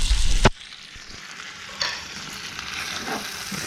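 Bacon sizzles in a cast iron pan with a loud initial crackle that drops to a steady hissing fry, plus a light clatter partway through, close and without talk.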